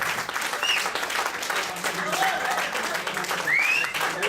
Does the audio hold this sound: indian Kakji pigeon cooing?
no